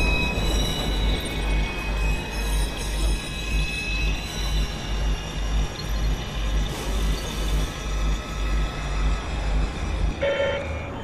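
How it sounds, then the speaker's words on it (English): A train pulls into a station in the Watch Dogs video game, with a loud, continuous low rumble of rolling wheels and carriages, faint metallic squeals, and a brief electronic tone near the end. "Southbound train arriving shortly."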